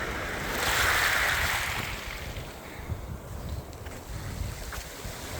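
Ocean surf washing onto a beach at a wildlife refuge near Sequim, Washington, as the tide comes in, a steady broad rush of waves that swells and eases, heard alone with no voices.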